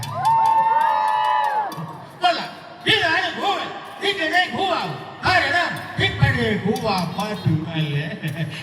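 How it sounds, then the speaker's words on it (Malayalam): A comedy-night crowd in Trivandrum hoots and boos louder when prompted, a long massed howl followed by bursts of shouting, whooping and jeering voices that rise and fall in waves. "അപ്പൊ ഒന്നുകൂടി കൂവണം."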